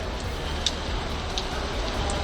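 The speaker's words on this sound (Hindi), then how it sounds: "जहाँ तक लगातार बारिश हो रही है और बादल लगे हुए हैं" Heavy, continuous rain falls steadily during a cloudburst disaster in the Himalayan area around Dharali, with a dense, unbroken hiss. A few faint drips stand out now and then.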